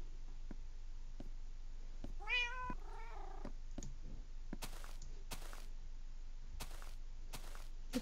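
Cats in the Minecraft video game give a few short meows over a steady hiss of game background, with scattered soft clicks and taps around them.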